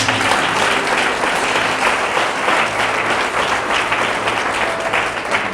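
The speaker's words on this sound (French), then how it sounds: "Acclamez le Seigneur pour elle." Church congregation applauding and acclaiming the Lord, a sustained wash of many hands clapping at full volume with faint cheering mixed in, steady throughout.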